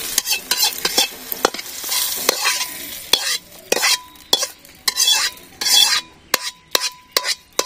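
Fried bitter gourd stirred into lentil dal in a pot on a village kitchen fire, with repeated close scraping and clinking of a spoon against metal and a soft sizzle between strokes, no talking.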